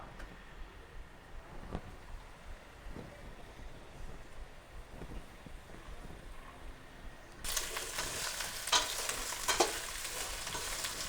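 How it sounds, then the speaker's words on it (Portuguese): A mirepoix of celery, carrot and onion sautés in a pan, a faint low sizzle at first that jumps to a louder, brighter crackle partway through, with occasional stirring knocks and no talking. "Nossos legumes já estão caramelizando."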